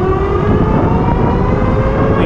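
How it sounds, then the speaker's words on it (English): An Ariel Rider X 60 electric bike with a 60-volt upgrade accelerates from a standstill on throttle, producing a loud, close rush of wind and rolling noise with a faint rising motor whine. "I'm just gonna hit the throttle and go"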